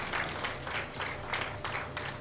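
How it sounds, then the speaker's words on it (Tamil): An audience claps together in steady, fairly quiet applause with slight rhythmic surges, heard from some distance. "நல்லா கைத்தட்டுங்க"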